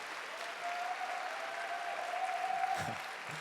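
A church congregation applauds steadily during a young adults' worship service, with the clapping swelling slightly before it fades out.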